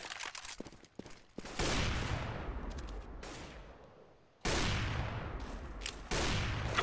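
A decoy grenade in CS:GO plays fake gunfire: loud bursts of rapid shots with echoing tails and brief pauses between volleys, heard close and without voices.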